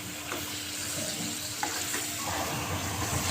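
Green chillies fry with yogurt in a pan, filling the space with a dense, even sizzle punctuated by a few sharp stirring scrapes, heard close and without talking.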